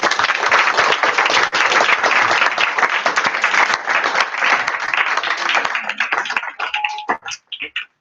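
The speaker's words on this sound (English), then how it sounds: "A big round of applause for brother." A dense, loud round of applause from an audience greeting a guest speaker at a Guru Poornima gathering, sustained for several seconds before thinning out into scattered last claps.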